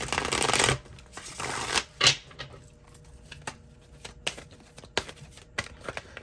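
Tarot-style cards are shuffled for a card reading: a dense riffling burst at the start, then scattered soft card flicks and taps, close and fairly quiet with no voices.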